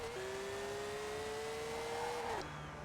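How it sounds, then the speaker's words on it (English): A 2015 Subaru WRX STI in Forza, set up for the drag strip, holds a loud, steady engine drone whose pitch climbs gradually before dropping abruptly near the end, like a shift or lift off the throttle. "So bringing our STI up to the festival drag strip"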